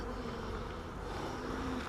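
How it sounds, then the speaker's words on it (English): Honey bees hum around a backyard hive in a steady, dense drone that stays even and close throughout, with no voices over it. "there's not nearly as many bees as there was before the swarm"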